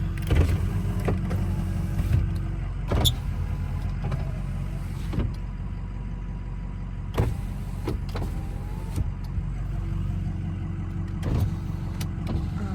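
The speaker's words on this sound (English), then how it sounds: "Tow haul, and then do the windows." Power windows on a Ford F350 diesel truck run in short whirring bursts with sharp clicks as they start and stop, over a steady low engine idle inside the cab.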